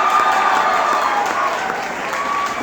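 Applause from a school audience honouring teachers and staff at a presentation, a steady dense clatter of clapping with a crowd murmur throughout, fairly loud and close.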